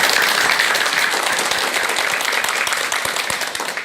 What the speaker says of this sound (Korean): 자, 그럼 큰 박수와 함께 강의 청해 듣도록 하겠습니다.